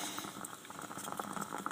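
Coffee for a cappuccino bubbles on the stove in a soft, quiet, continuous patter of small pops, close by and without talk.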